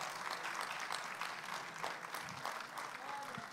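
A church congregation applauding, a dense, steady clatter of clapping from many hands that holds at a fairly even level for the whole stretch.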